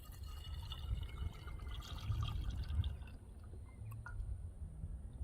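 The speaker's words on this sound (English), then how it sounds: "then you're going to put the funnel on your bottle and pour it in" Extract pours steadily through a funnel into a bottle with a soft trickling, splashing sound, quiet and continuous throughout.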